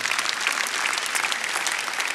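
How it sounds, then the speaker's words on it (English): Steady applause from a large conference crowd fills the whole stretch, dense and even with no voices on top. "Yeah, you can applaud that"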